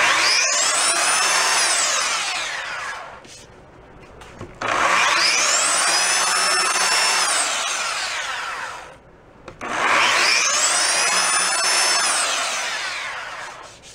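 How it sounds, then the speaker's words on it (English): A belt sander fitted with fine grit works the shell of a 1936 Slingerland Artist Model snare drum, three long loud bursts of steady abrasive whirring separated by brief pauses. "I got a real fine grit on this belt sander."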